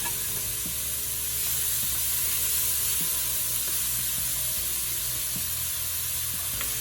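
Peppers sizzle steadily in a Dutch oven while being stirred for arroz con pollo, a continuous close frying hiss with faint scraping from a wooden spoon and no voices.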